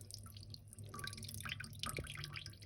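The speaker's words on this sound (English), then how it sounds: "there's like murky water coming out of it." Murky water drips out of a washed laptop keyboard, faint scattered drips and small trickles close by in a quiet room.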